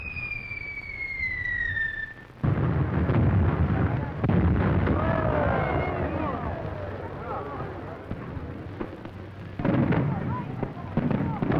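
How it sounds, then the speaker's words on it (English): Nighttime fireworks over Tivoli Gardens in Copenhagen open with a falling whistle, then a dense run of booming bursts and crackles that fades briefly and swells again near the end. "Night in Tivoli brings colored lights and fireworks, a 4th of July celebration every night."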